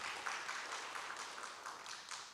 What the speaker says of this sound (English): If y'all keep clapping, we're going to be here for a while.